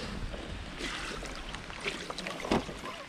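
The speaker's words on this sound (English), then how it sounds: "I don't know if you can hear that rain or not, but it is coming down hard still." Heavy rain pouring down steadily outside a barn under construction, a dense continuous hiss with a few louder splashes and knocks standing out, fairly close and with no talking.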